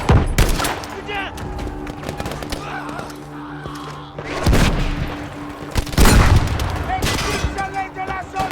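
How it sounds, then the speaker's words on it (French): Sustained gunfire and suppressing fire in Battlefield V, loud and close, with rapid automatic bursts, heavy booming impacts and overlapping shots, under shouted in-game voices. "Tire de suppression!"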